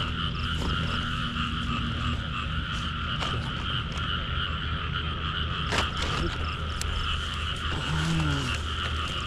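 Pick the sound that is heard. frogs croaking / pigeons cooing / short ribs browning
frogs croaking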